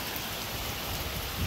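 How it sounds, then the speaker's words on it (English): Dense, steady pattering of hail striking a surface, a continuous loud rattle with a slight thump near the end. "It's still hailing."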